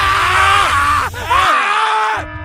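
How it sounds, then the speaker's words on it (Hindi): Pained screaming and groaning from miners caught in a deadly melting disaster, several loud anguished voices wailing together, rising and breaking, with a brief dip before the cries resume and fade. "यहाँ पर गूंजने लगती हैं उन माइनर्स की दर्द भरी चीखें।"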